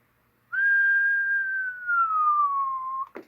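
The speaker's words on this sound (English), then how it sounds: "I'm going to key up the mic and give a whistle into it" A single long whistled note into the microphone of a 40-channel SBE Land Command base CB radio, steady then slowly sliding lower in pitch, clear and close, ending with a brief click.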